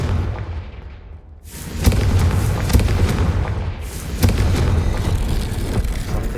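A Confringo fire spell bursts in Hogwarts Legacy, booming blasts at about 1.8 and 4.2 seconds, followed by rumbling combat noise that starts suddenly and stays loud.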